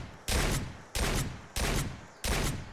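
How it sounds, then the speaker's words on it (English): Four loud, booming blasts of the Riot shotgun in the Fallout 4 video game, fired in quick, evenly spaced succession, each with a short decaying tail. "Here is our Riot shotgun in first person, and it sounds like this when you shoot it."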